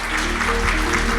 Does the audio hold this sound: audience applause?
yes